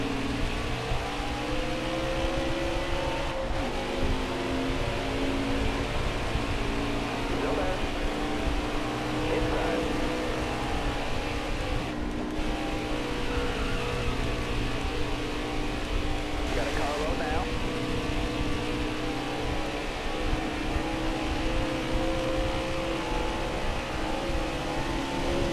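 Race car engines drone and whine at the restart in NASCAR Heat 4 at Auto Club Speedway, a dense continuous roar with shifting pitch, overlaid by steady talking throughout.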